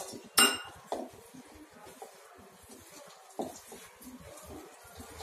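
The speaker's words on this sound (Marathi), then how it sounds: "अशा प्रकारे सर्व मिक्स करून घ्यायचं असं, भजी सारखं थोडं घट्ट घट्टसर पीठ करायचं" A spoon mixing gram flour and spinach batter in a bowl, with a few sharp clinks against the bowl and soft, quiet stirring between them.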